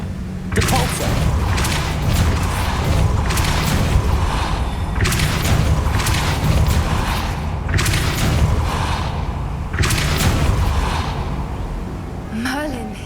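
Depulso force spell from Hogwarts Legacy lands as a series of heavy booming thumps at regular intervals, each with a swelling burst. A voice speaks over the top.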